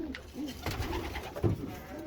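Pigeons in a backyard loft in New Jersey coo softly and repeatedly, several low rolling calls overlapping at close range over a steady ambient hum, with no talking.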